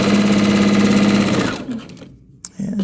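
A sewing machine stitches batik charm square quilt pieces with a steady, loud mechanical whir for about a second and a half, then stops. A brief clack and a short restart of stitching follow.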